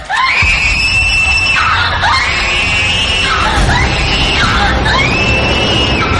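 Loud, sustained screaming in several long, rising and falling shrieks, close and piercing, with no talking.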